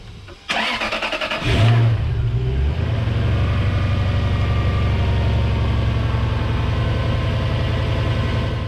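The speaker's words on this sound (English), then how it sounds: "I'm going to go ahead and fire up the engine" A car engine fitted with aluminum pulleys cranks and catches, revs up once, then settles into a steady, loud, rumbling idle close by.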